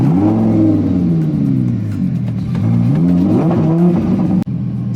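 A Lamborghini Huracan RWD (LP580-2) fires up and its engine revs hard several times, loud and close, the pitch rising and falling in repeated surges.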